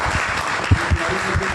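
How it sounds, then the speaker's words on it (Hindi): An audience at a business presentation claps, a brief burst of applause with a few louder individual claps standing out, ending after about a second and a half. "मैं जोरदार तालियां चाहूंगा"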